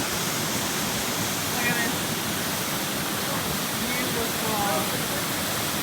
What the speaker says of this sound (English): Made it to the falls.